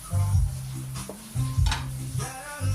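Liquid boils in a clay pot over medium heat, with bursts of bubbling and clinking against the pot coming in short recurring waves, close and moderately loud.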